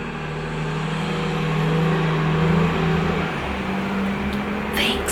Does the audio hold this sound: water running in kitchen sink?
no